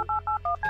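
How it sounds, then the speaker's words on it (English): Four quick electronic keypad tones from a telephone being dialed in the point-and-click adventure game Kathy Rain, each beep clean and close, separated by tiny gaps, with no talking. "I'm calling for Charles Wade"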